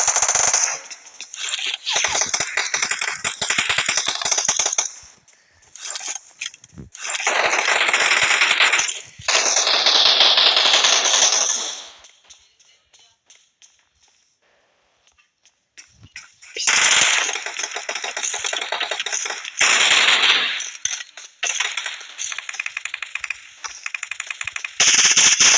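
Gunfire in the mobile game PUBG Mobile: long loud bursts of rapid automatic fire separated by short silent gaps, several volleys of sustained crackling shots, no talk.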